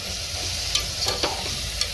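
A spatula stirs chopped ridge gourd and chana dal in a hot pan, scraping and clicking lightly over a continuous frying sizzle, close up and with no one talking.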